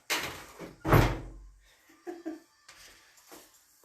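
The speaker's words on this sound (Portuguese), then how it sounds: "Deixa eu abrir a porta para ele." A house door is opened to let a dog out: one loud close thump is followed by softer rattles and knocks from the door and latch, then quiet.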